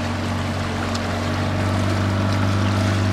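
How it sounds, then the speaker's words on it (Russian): A small boat's motor idles steadily as the vessel slowly leaves a bay on the Black Sea near Anapa, a constant low engine hum with wind and water noise over it and no voices. "Идем потихонечку на моторчике."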